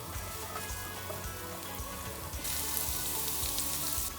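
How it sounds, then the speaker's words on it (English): Ginger, garlic and spring onions frying in a pan: a steady crackling sizzle close by, with occasional stirring clatter, that grows brighter and hissier partway through, and no talking. "we're just going to go in with the ginger, garlic and spring onions to start with, and just sizzle that for a few minutes"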